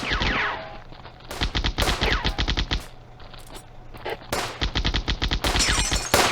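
Machine-gun fire from a World War II real-time strategy battle in Firefight, with repeated rapid bursts of automatic shots broken by short pauses, loud and close, and no talking.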